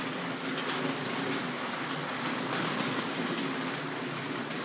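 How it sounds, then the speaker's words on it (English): A Tri-ang model train runs on a layout at a collectors' society show, a steady, loud whirring rumble of wheels and motor that holds evenly throughout, with faint clicks of track joints. "I saw some Triang big train in action."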